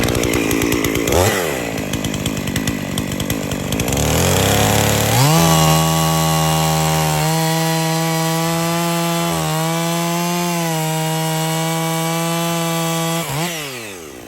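A Husqvarna 55 chainsaw, a little dull, rips through a tree while milling it into lumber, its engine snarling loud and close, revving up and bogging as it cuts, then holding a steady high whine before easing off near the end.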